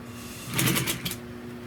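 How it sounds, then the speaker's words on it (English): A sewing machine stitches upholstery for the rear armrest panel of a 1966 Buick Wildcat GS. It gives one short, close burst of rapid stitching over a quiet room hum, with no talk. "So when I'm sewing this"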